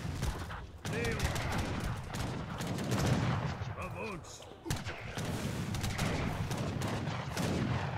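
Musket volleys and artillery fire from a battle in Age of Empires III, a dense unbroken crackle of overlapping shots with heavy booms underneath, loud and continuous for eight seconds with only a short dip partway through.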